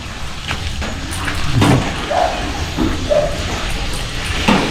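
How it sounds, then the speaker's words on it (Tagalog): A dog gives a few scattered barks and yips against steady outdoor background noise, moderately close. "Ay, pambira ng aso yan. Napasok ang aso."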